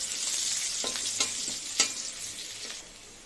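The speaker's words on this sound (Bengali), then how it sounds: "পেঁয়াজটা ভাজা হোক।" Chopped onion and onion paste frying in a pan with fish-curry spices nearby, a bright steady sizzle broken by several sharp scraping stirs of a spatula, fading a little at the end.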